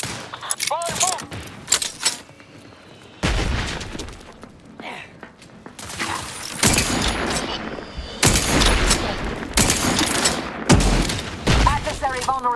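Gunfire in the sci-fi shooter The Outer Worlds 2: loud, close bursts of rapid weapon fire in several long volleys, with voices and electronic effects in the quieter gaps between.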